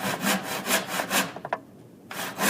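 A hand saw cuts through a small piece of wood with a series of rhythmic rasping strokes, close and clear, ending in a brief pause and a final few strokes.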